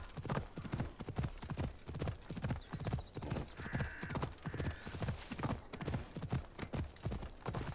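Rapid, rhythmic clip-clop of horse hooves at a steady gallop in the video game Assassin's Creed Odyssey, close and prominent throughout, with a couple of short higher tones cutting in midway.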